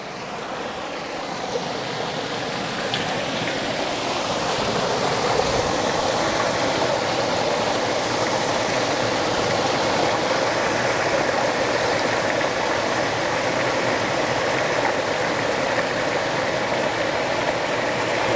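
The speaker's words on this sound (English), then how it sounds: "We are looking at the Stony Brook" Water from the Stony Brook rushes past an old dam as a steady, loud broadband roar, close and constant, with no voices.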